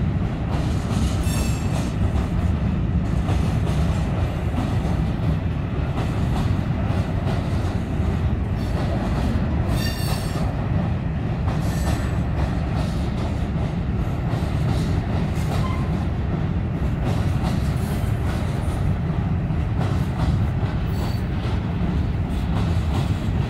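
A Norfolk Southern freight train passes close by, a continuous heavy rumble of wagons rolling along the rails with occasional wheel squeals and clicks that stays loud throughout.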